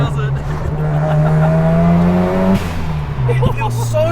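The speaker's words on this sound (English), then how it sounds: "Doesn't stop revving, does it?" A Mazda FD RX7 rotary engine revs hard and continuously, a loud close droning tone that climbs and holds, dips briefly, then carries on, with no talk over it.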